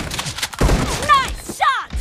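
Gunfire from a PUBG Mobile battle, a couple of loud sharp shots with ringing tails in a short burst, mixed with game effects and close, punchy impacts.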